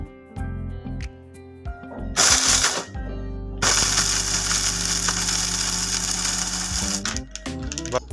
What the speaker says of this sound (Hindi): अब इन सबको हम ग्राइंड कर लेंगे।